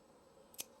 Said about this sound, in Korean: 세척 가위로 이렇게 잘라주시면 돼요.